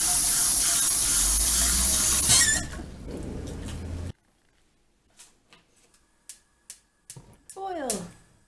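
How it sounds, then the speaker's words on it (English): Water gushes from a tap into a metal pan for a few seconds and then stops, followed by scattered clinks, a squeak and brief rustling. "what we need to begin is some water in a pan and start boiling it"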